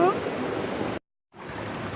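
Water in a creek runs steadily as a close, continuous broadband rush, broken by a brief cut to silence partway through before the flow resumes.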